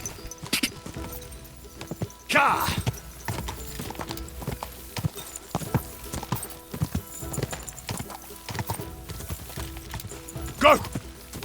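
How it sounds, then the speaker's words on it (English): Horse hooves clip-clop steadily in Kingdom Come Deliverance 2, a close, rhythmic trot with occasional heavier impacts and brief snorts, while a person speaks over it at times. "Hello, stupid horse."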